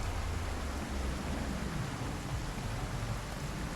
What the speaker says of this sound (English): Also stuck with a random storm